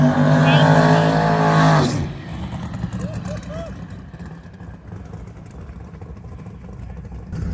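A drag race car at Sick Week roars loudly at close range for about two seconds, then its engine note drops away into the distance while people talk over the fading rumble.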